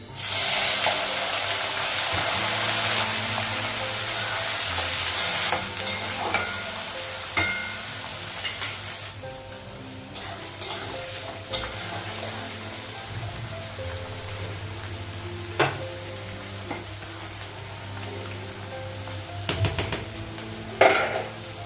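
Onion and cloves fry in a pan in a home kitchen, a strong steady hiss at first that then fades and gives way to lower sizzling, punctuated by scattered clinks and scrapes of a utensil against the pan.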